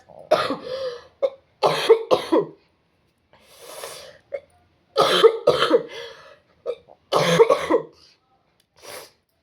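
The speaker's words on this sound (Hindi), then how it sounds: "मेरी तबीयत खराब है, इसीलिए मुझे खांसी वगैरह हो रही है" Several harsh coughs come in bursts, close and fairly loud, separated by short pauses with a few quieter throat sounds between them.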